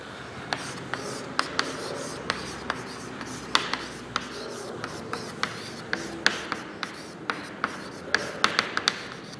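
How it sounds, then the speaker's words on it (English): Pen or marker writing by hand during a biology lesson on flower pollination, producing a steady run of sharp taps and scratchy strokes in a quiet room, with no talking. "Let me write that one."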